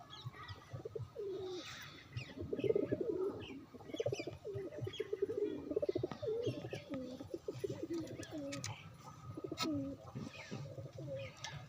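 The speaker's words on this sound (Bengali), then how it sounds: "আর এখানে একটা গিরিবাজ পায়রা আছে" A giribaz pigeon, a domestic pigeon sitting on its eggs, coos in repeated low rolling phrases, close and fairly loud, with faint chirps from other birds behind.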